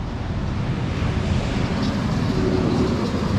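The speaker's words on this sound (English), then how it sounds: "Sorry about the road noise." Steady road traffic noise, a broad continuous roar and rumble from passing vehicles, fairly loud and unbroken, with no voices.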